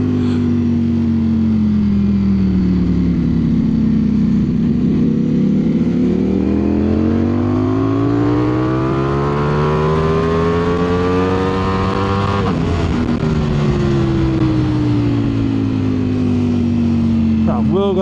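A Ducati Streetfighter V4S motorcycle ridden hard along winding mountain roads, its engine note sweeping up and down through revs and gear changes, loud and close with constant wind rush.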